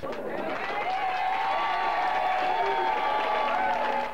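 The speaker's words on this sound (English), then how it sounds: "Cheering church workers and members hailed him as a conquering hero as Robert Tilton walked in" Church workers and members cheer and applaud as a preacher walks in, a dense, steady crowd roar of clapping and cheering at moderate distance, sustained throughout.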